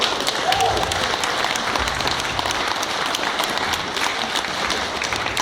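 A crowd at a political rally presenting Riigikogu election candidates for Läänemaa and the islands gives sustained, dense applause, with many hands clapping steadily at close range.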